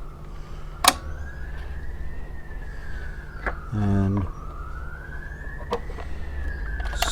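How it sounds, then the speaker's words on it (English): Distant wailing siren rising and falling in long sweeps, with a brief deeper horn blast in the middle and a short spoken word early on. "we've got sirens there now."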